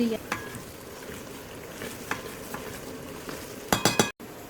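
A roast fries in a rice cooker, producing a low bubbling sizzle with intermittent scraping stirs and clinks, ending in a brief cluster of louder metallic knocks before a sudden cut.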